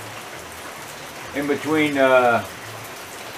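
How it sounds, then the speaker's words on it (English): Rain falls outdoors as a steady hiss of drops throughout, while someone speaks briefly over it partway through. "it looks like it's going to be raining all day, so it looks like I will be working in the rain"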